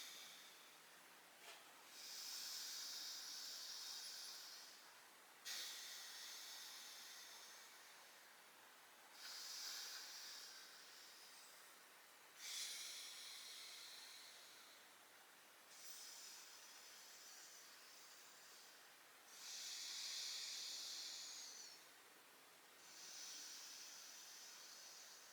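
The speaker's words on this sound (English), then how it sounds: "Last 1 or 2 sets of alternate nostril breathing." Slow alternate nostril breathing during a yoga routine, heard as long soft hissing breaths through the nose that rise and fall in turn, faint and unhurried with no speech.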